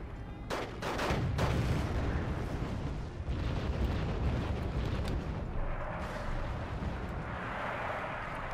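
Artillery shells slam into a mountainside in the war strategy game Wargame Red Dragon, with several loud blasts up front and then a continuous rumbling roar of impacts.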